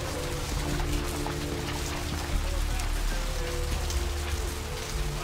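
Steady rain falls in a Vampire: The Masquerade - Bloodlines game scene, a continuous dense patter at moderate level with a low droning hum underneath and no break across the stretch.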